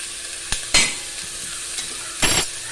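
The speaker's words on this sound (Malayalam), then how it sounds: "ഇനി ഇതിലേക്ക് സവാള ഇടാം സവാള ഇട്ട് ഇളക്കാം" Sliced onion sizzles steadily in oil in a curry pan, with a few sharp scraping stirs of a spoon against the pan standing out over the constant close frying hiss.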